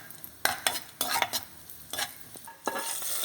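Raisins frying in a pan for sago milk kheer, stirred with a spoon that clinks and scrapes in several sharp strokes over a faint sizzle.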